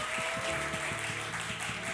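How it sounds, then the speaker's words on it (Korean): A church congregation at a young adults' Sunday service in Busan applauds a certificate presentation, a steady wash of clapping held across the moment with a low musical hum underneath and no spoken words. "자, 수여할 때 박수로 축하하겠습니다."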